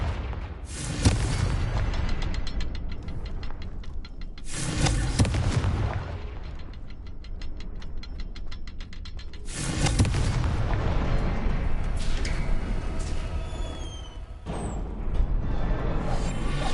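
The Confringo blasting curse in Hogwarts Legacy sets off several loud, broad explosions, separate booms with rumbling tails between quieter stretches that carry light crackles and whooshes.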